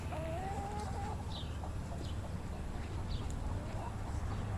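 Backyard chickens with a rooster and hens clucking softly at a moderate distance, scattered short calls over a steady low outdoor hum, with light voices in the background.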